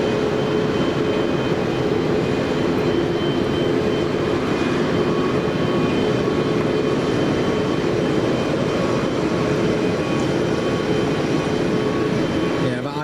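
Icelandair Boeing airliner at Manchester Airport, a continuous broad jet engine roar holding steady throughout, with people talking over it.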